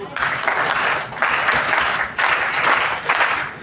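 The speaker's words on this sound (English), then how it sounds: "we'll go for a rhythmic clapping" An audience at a personality development and life skills training session claps in unison to a counted rhythm, bursts of many hands in repeating groups with brief pauses between cycles, close and loud.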